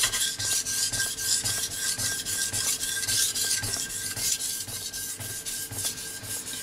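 A knife blade sharpened on a Shapton 1500 grit whetstone makes a close, rhythmic rasping scrape, stroke after stroke at a steady pace, with no voices over it.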